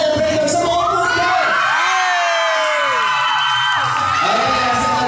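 A crowd at a debut event claps and cheers, with loud whoops and shouts that swell and fall in pitch over a continuous roar of voices.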